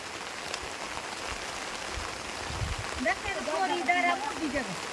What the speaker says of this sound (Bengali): বৃষ্টি বাড়তেছে কমতেছে না